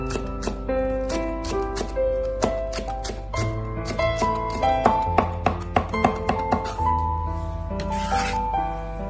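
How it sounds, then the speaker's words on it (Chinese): Scallions being chopped into small rings with a knife on a cutting board: a run of crisp, fairly close taps, irregular at first and then steadier, over a tonal background hum. "将小葱切成葱花"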